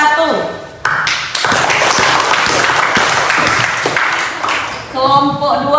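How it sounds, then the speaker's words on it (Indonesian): A classroom of students applauds a group after their presentation, a burst of clapping with taps and thuds, beginning after a brief pause and fading toward the end as someone speaks. "kita kasih tepuk tangan untuk kelompok 1"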